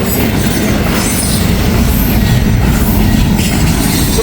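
A long freight train rips past at speed near Walton and Richwood, Kentucky: a loud, continuous close rumble of wagons with rhythmic wheel clatter and faint squeal throughout.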